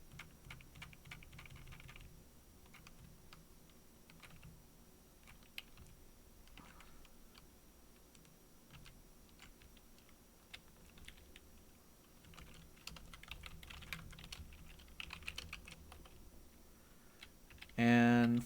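Steady typing on a computer keyboard during coding work, a continuous run of soft clicking keystrokes at close range with occasional louder key taps, no talking over it.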